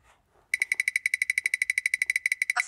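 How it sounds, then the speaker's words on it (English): After soft rustling, a rapid, even train of short high electronic beeps from Envision smart glasses detecting text starts abruptly, about ten per second, loud and close. "it's going to give me a lot of beeps when it sees the text."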